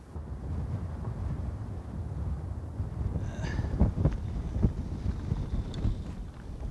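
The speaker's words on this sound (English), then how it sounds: "it's very windy today" Strong wind buffets the microphone with a low, rumbling roar and gusty surges throughout, with no one speaking.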